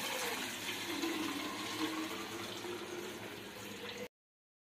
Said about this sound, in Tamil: ஒரு 3 வாட்டர் பாட்டில் எடுத்து தண்ணி வந்து ஃபில் பண்ணிகிட்ருக்குறோம்